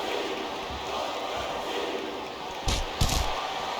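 Large wrestling arena crowd roaring steadily at a distance, a dense wash of cheering and shouting with a couple of louder bursts near the end.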